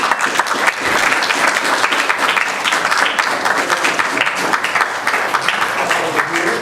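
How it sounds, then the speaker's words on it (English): Dense, loud clapping from an audience at a school board work session, honoring a wrestling competitor, sustained and even for several seconds. "you can clap now"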